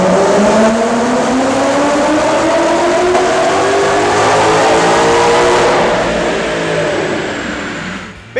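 A Roush R2300 supercharged 2014 Mustang GT, 5.0-litre V8 with six-speed and long-tube headers, pulls hard on a dyno, its loud rising engine note climbing steadily for several seconds before the throttle lifts and the revs fall away.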